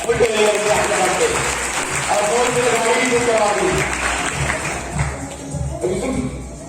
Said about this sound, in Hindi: अरे वाह मजा आ गया, जोरदार तालियां।